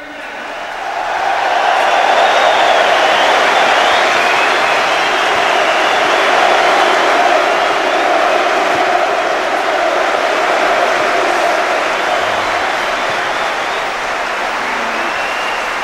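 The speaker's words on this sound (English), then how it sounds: "Introduced to the Tottenham crowd, and this is the reception he got." A large Tottenham football crowd at White Hart Lane roars and applauds in a sustained, dense wall of cheering that swells within the first seconds and holds steady at full volume for the rest of the stretch.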